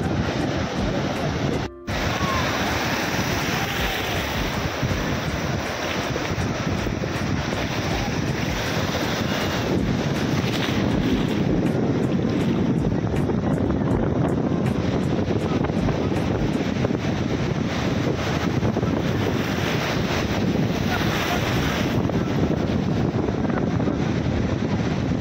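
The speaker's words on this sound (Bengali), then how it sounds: "আর এই যে ঢেউগুলো আসছে" Sea waves breaking and washing up on Digha beach, a steady loud roar of surf with heavy wind buffeting the microphone throughout, continuous and close with no clear break between swells.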